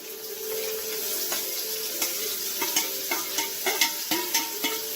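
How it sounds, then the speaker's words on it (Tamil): Small shallots sautéing in a pan with salt for an athalakkai poriyal, a steady close sizzle with rhythmic spatula stirring taps growing more frequent toward the end, no talking. "சின்ன வெங்காயம் நல்லா பொன்னிறமாக பொரியணும் அதை வதக்கணும்"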